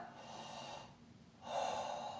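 Deep, slow breathing demonstrated up close: one long, airy breath, a short pause, then a second, louder and fuller breath, with no talking.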